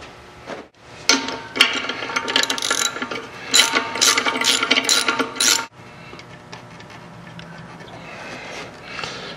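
A ratchet clicks in quick bursts while loosening the horn on a Harley-Davidson motorcycle, close and fairly loud, with rapid pawl chatter for several seconds before it stops and leaves a quieter background.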